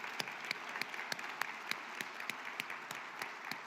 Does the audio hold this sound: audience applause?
yes